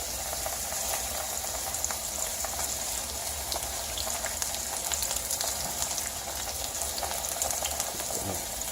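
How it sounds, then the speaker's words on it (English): Chicken breast sizzling steadily in a hot pan during pan roasting, a continuous bright crackle and spatter heard up close without any talk. "You hear the sizzling?"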